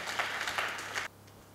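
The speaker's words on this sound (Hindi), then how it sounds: "सोनलाल जी के लिए ज़ोरदार तालियां होनी चाहिए" An audience breaks into a short burst of clapping that fades out after about a second, leaving a quiet room with a faint hum.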